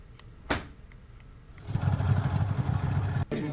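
A Canadian or US-built snow bike engine in the Gulmarg snow: a sharp bang, then the engine revs into a loud, rough, throbbing rumble close by, holding steady before a brief dip near the end.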